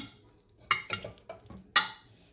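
Tomato being stirred into cooked pasta in a pot, giving a few sharp spoon-on-pot clinks and soft scraping stirs in an otherwise quiet kitchen.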